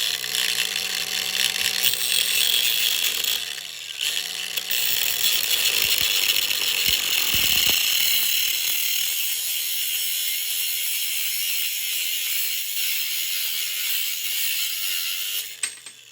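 A cutter snips a window net rod to length, with mechanical clicks and a sharp cut near the middle, then quieter rustling handling; close and moderately loud.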